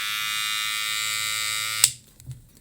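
A Babyliss Lo Pro FX hair trimmer fitted with a gold FX blade runs with a steady, close electric hum and bright buzz, then cuts off abruptly with a click, leaving a couple of faint handling knocks.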